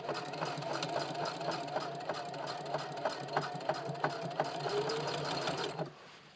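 A Singer HD 4411 heavy-duty sewing machine fitted with an even feed presser foot stitches through heavy fabric in a steady, rapid mechanical chatter with even needle ticks. It runs for about six seconds, then stops abruptly.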